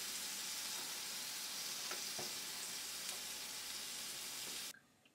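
Bell pepper and tomatoes grill in a hot skillet, a loud continuous close-up sizzle with a few soft stirring taps, cutting off abruptly near the end.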